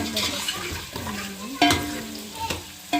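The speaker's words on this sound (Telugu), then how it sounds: "మొత్తం బాగా ఫ్రై అయిన తర్వాత రైస్ మిక్స్ చేసుకొని" Rice is stirred into egg biryani frying in a pan, giving a steady sizzle with scraping spoon strokes and a few louder knocks against the pot, close up and with no talk.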